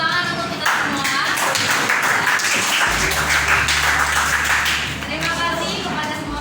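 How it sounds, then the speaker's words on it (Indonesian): A group applauds in a classroom with loud, dense clapping that fills the space and then fades, a low hum entering partway through. "Beri tepuk tangan untuk kita semua."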